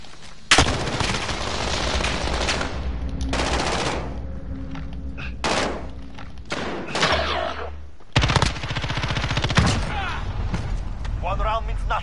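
Modern Warfare gunfire, loud close bursts of automatic fire broken by pauses and heavier booms, with people talking between and over the shots.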